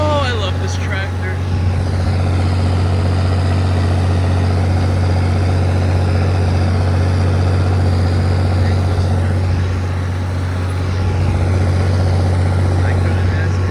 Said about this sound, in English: Oh, I love this tractor.